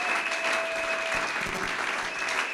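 A church congregation at a Sunday worship service claps steadily, a broad sustained wash of applause with faint voices mixed in, filling the room throughout.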